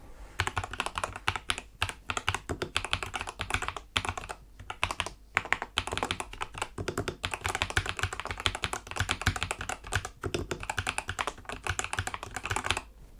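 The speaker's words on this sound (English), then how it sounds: "When it comes to actually what the keys sound like, let's take a quick listen now and see what they are like." Steady, dense typing on a Tecware Phantom Plus 87 TKL mechanical keyboard, a rapid close-up run of thocky keystrokes with a few brief pauses and no talking.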